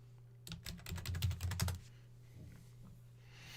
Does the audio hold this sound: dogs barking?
no